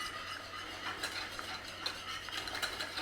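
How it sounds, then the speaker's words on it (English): A spoon stirs a thickening sauce in a pan for mac and cheese meatloaf, giving soft, steady scraping and swishing with faint metallic clinks over a low background hiss. "So it's a nice little stir around."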